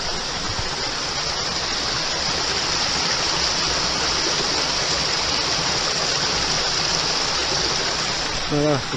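Stream water in the Dordogne rushes steadily and loudly throughout, a dense close wash of flowing water with a brief voice near the end.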